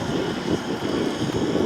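A model Lynx helicopter flying at the Popham model air show in 2023 makes a steady, loud engine and rotor drone, heard continuously with some wind buffeting on the microphone.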